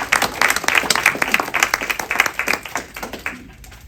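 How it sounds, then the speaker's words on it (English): An audience applauds a theater sound effects team at an old-time radio show performance, with dense, lively clapping that holds steady for several seconds before fading out at the end. "Put your hands together for our sound team, Don Schaefer and Carolyn Waller."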